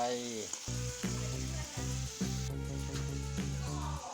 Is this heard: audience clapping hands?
no